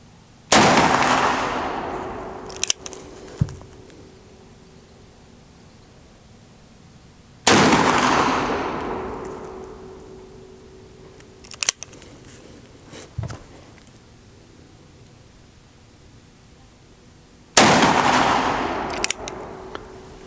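A Ruger Super Blackhawk .44 Magnum revolver fires three loud, booming shots several seconds apart outdoors. Each shot trails off in a long echoing decay, with a few sharp clicks in between.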